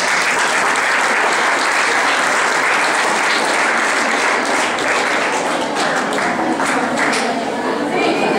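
Loud, dense audience applause filling the whole stretch, a steady wash of many hands clapping at once from a large crowd, close and continuous.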